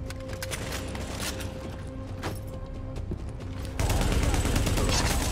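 An M249 machine gun in The Division fires in rapid sustained bursts, dense rattling shots growing louder and heavier near the end, with game sounds in the background.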